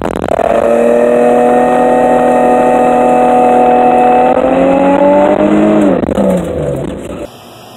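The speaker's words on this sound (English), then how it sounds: "that was a good burnout" A car with a welded differential does a burnout: a loud, steady engine roar held at high revs for several seconds, then sliding down in pitch as it backs off before cutting out.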